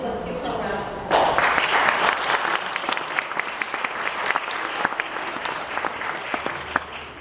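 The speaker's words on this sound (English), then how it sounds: "let's give her a round of applause." A class audience breaks into applause for an absent teacher, a burst of many hands clapping that starts abruptly after a second of murmur and stays steady and fairly loud to the end.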